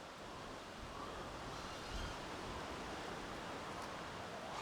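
Strong outdoor wind roars as a broad, steady rush over the microphone while a small 3-inch FPV drone flies, the noise constant and close with no voices.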